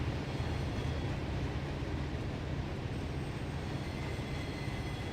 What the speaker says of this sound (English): So this is like a through manifest that just passes right through.